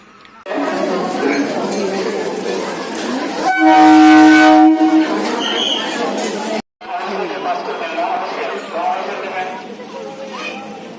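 A train running on the line toward Thakurnagar in West Bengal, with a steady rolling rumble under continuous crowd chatter and a brief loud horn blast in the middle as passengers board.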